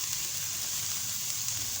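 Fish frying without oil in a non-stick pan, a steady, moderately loud hiss and crackle throughout the short stretch with no voices.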